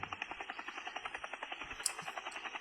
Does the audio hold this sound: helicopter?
yes